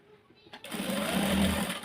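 A sewing machine stitches a pleated blouse sleeve. It starts after a quiet half second and then runs as a steady, loud, close mechanical whir to the end.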